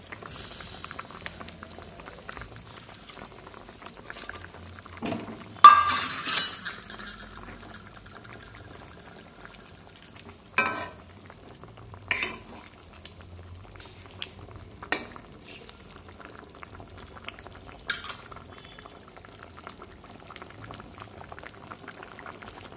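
Fish added to a bubbling fish curry broth in a pan: a steady low simmer with several distinct splashy stirring bursts and clatters spaced throughout, no talking.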